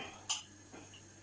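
A teaspoon scoops whole grain mustard into a dish: one sharp, bright clink of metal on the dish, then a faint softer scrape as it settles, with quiet room tone around it.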